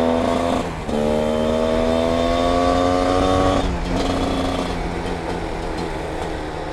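A loud motor engine drones steadily with rising harmonic pitch, briefly dipping then continuing, like a motorcycle accelerating through gears.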